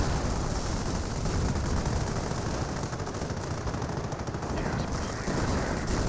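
Dense gunfire and explosions rage without pause through a Company of Heroes battle, machine-gun bursts and mortar impacts blending into a loud, continuous roar.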